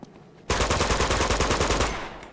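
Rapid automatic gunfire in Uncharted 2 on PS4, a sustained burst of evenly spaced shots lasting under two seconds after a brief quiet lead-in, loud and close, with no talk over it.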